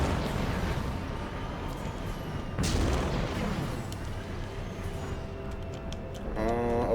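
A Manta vehicle in Mass Effect 2 fires rockets, producing a loud rumbling launch with a sharp boom near the middle over continuous engine noise. A brief stuttering electronic burst sounds at the end.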